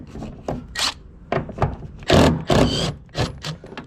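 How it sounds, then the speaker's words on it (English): Rear seat bolts, 17 mm, being worked loose on a 1968 VW Baja Bug: close, irregular bursts of metallic scraping and ratcheting, several short strokes separated by brief pauses, with no talking. "Take these back seat bolts out. They're 17 millimeter."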